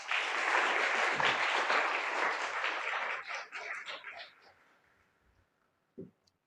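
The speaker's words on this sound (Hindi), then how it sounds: "ताली बजाओ इनके लिए" Dense applause from a crowd at a church deliverance meeting, loud at first, then thinning into scattered claps and fading out, with a final single clap.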